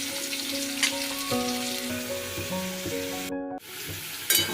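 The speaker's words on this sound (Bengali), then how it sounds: "আলুটা এবার আমি ভালো করে একটু ভেজে নিলাম" Potatoes fry in hot oil for a fish curry, a continuous crackling sizzle under tonal clanks and ringing of a metal pan and spatula, with a brief silent gap near the end.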